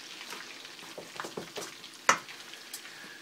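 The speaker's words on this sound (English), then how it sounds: "We'll give this a stir." A spoon stirs loaded baked potato dip in a pan with a soft, quiet sizzling scrape and a few light taps, one sharper clink near the end.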